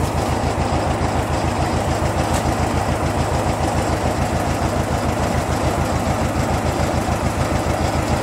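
A steady engine idles nearby with a rapid, even low-pitched throb, continuous and loud throughout with no pauses.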